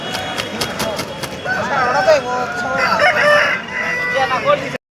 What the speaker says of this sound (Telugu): మీరు చూస్తున్న ఈ తెల్ల కక్కర పుంజు